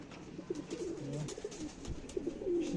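Soft, repeated cooing of pigeons in a Mardin bird flock, several rolling coos close by over a faint background murmur, with no voices.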